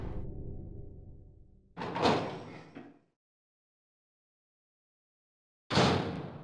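A door opens in the survival horror game Resident Evil 2: a sustained creak and rumble gives way to a loud thud, then silence, then another sharp burst of door noise near the end.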